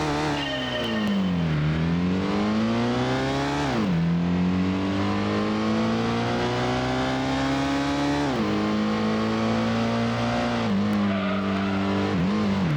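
Mitsubishi test car in the Gran Turismo racing game, its engine droning steadily and loud throughout, pitch sweeping down and climbing again with gear changes and corners, with a hint of tire squeal.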